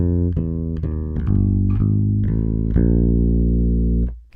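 Unmuted electric bass plucked near the neck in its original tone, a run of about eight distinct note attacks with sustained, rounded low harmonics, played solo and up close with no talking.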